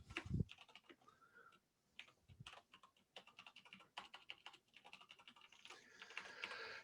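Bursts of quiet, close typing on a computer keyboard come in irregular clusters of rapid clicks separated by short pauses, with no speech.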